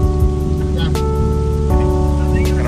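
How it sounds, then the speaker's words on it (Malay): Heavy rain pours steadily and close, a dense unbroken wash of drops on a surface, with low engine hum and tonal background sound layered underneath on a trip in Kelantan, Malaysia. "Tapi hujan masih lagi lebat."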